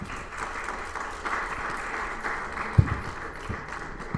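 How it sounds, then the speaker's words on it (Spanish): An audience gives steady, moderate applause welcoming a speaker at a lecture, a continuous wash of clapping with one sharp knock partway through. "Lo recibimos con un fuerte aplauso,"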